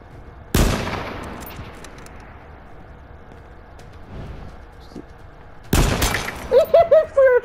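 Loud gunfire bursts in a video game, a sharp shot near the start and another heavy blast later followed by rapid repeated hits, marking a headshot kill.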